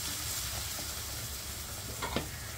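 Green chilli pickle masala fries gently in a pan over a low, steady hiss, with a couple of faint clinks from a utensil near the end.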